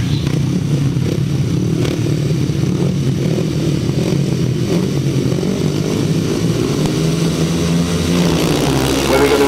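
Grasstrack racing motorcycles roar loudly and continuously at the start of a race, a dense engine drone that holds steady throughout with no clear gaps.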